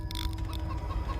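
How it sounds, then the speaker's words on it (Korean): A chicken clucks in short, quick bursts over a low steady hum in a horror video game, moderately close and brief. "닭 소리 들리는데?"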